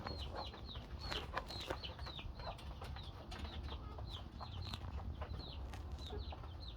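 Chickens in a coop cluck and chatter continuously in short, repeated calls over a steady low background, with no talk, and a faint flutter now and then.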